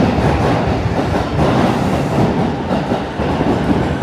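A commuter train at a Tokyo station platform, bound for Akihabara, rumbles loudly and steadily close by with a continuous rolling roar of wheels and carriages.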